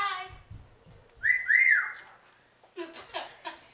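A person whistles a short rising-and-falling tune near the mic, framed by soft bits of talking before and after.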